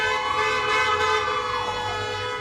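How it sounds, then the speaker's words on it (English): Car horns blaring at a socially distanced drive-in election rally for the Biden campaign, a loud sustained chorus of overlapping horn tones holding steady for the whole stretch with no voices. "Supporters honked in his speeches instead of applauding."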